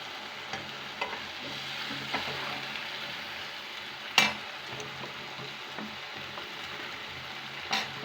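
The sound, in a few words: bottle gourd with red lentils being sautéed in a pan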